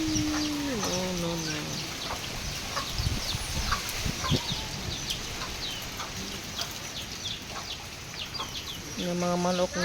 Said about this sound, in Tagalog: Yung mga manok na gutom na.